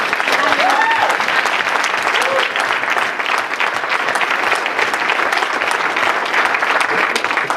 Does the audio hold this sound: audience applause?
yes